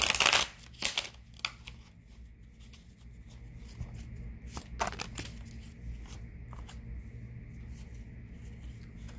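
Angel cards shuffled by hand, with a few sharp riffling bursts at the start and again near the middle, then quieter soft handling and rustling.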